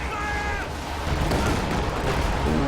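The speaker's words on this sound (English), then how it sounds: "I hear a Stuka barrage" A Stuka dive bomber barrage in the game Company of Heroes 2 delivers a dense rumble of explosions and artillery-like blasts that swells in the second half over a busy battle background.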